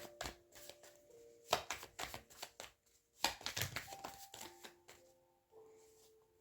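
A deck of tarot-style reading cards is shuffled up close in quick bursts of riffling and flicking, with short pauses between handfuls and a faint steady tone underneath.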